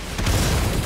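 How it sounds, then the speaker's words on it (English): A rocket explosion in the Killing Floor 2 game, a single deep, loud boom that swells and rumbles through the short moment with no voices over it. "Oh, rockets!"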